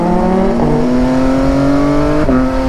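A prototype F3 motorcycle engine sings steadily while riding, its tone rising and shifting with a brief gear change near the end, loud and close with continuous wind noise and no talking.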